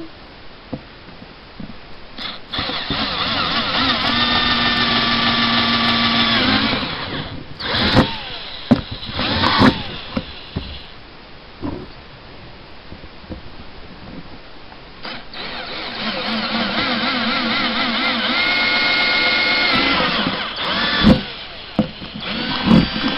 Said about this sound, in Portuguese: E fazer 2 furos de 1/4.